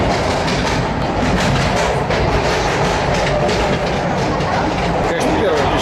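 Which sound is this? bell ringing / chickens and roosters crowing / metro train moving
metro train moving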